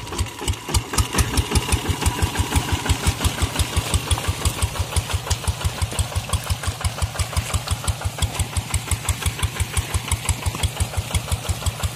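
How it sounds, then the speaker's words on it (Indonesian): A modified walk-behind tractor fitted with a combined rotary tiller and plough runs its engine under a little throttle. It makes a loud, fast, even chugging of sharp exhaust pulses that continues throughout with no voices. "Kasih gas sedikit."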